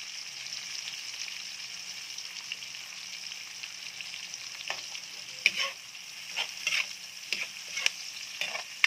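Onions frying in butter for beef chopsuey, a steady close sizzle with occasional stirring scrapes and clinks toward the end, no talking.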